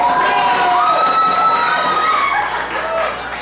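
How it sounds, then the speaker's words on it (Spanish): Crowd cheering and shouting for a karaoke singer at a national karaoke championship bingo event, a loud continuous roar of voices with whoops, steady through the whole stretch. "Aplausos para David"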